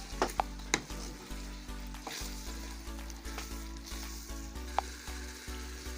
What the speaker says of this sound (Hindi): अब इसमें चिकन शामिल करेंगे।